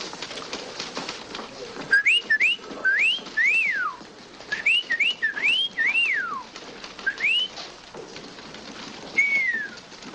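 A man whistles in imitation of a bird in a tree outside a window, giving a string of short rising and falling chirps in irregular bursts over about ten seconds, fairly close, with soft background noise.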